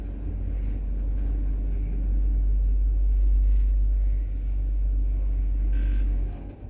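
Krakdźwig elevator from 2007 in a Kraków apartment block running, a steady deep low hum and rumble throughout with faint rattles and a brief higher clack near the end, no talk.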